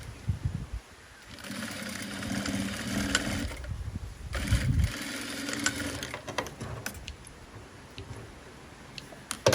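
A sewing machine stitches seams on a handmade top, running in bursts of steady mechanical whirring with brief pauses and faint clicks between runs, close and clear with no talking.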